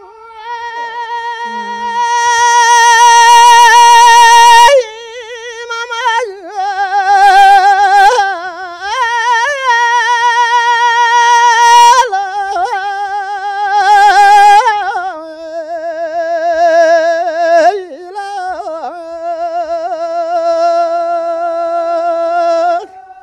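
Tibetan Lhamo opera singing from the traditional show Sukyi Nyima: a loud, sustained solo voice with strong vibrato and sliding, ornamented pitch, phrases held for several seconds with short breaks, continuous over the whole stretch.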